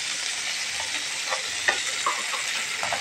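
Chopped onion, garlic and green chilli fry together with fish in hot oil, a loud, continuous sizzle with a few soft stirring knocks, close and without talk.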